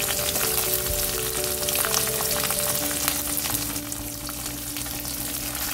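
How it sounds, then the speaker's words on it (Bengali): Green chilies and spices fry in hot oil in a pan, giving a loud, steady sizzle with crackles and occasional stirring scrapes throughout. "এগুলোকে ভাজতে দিলাম।"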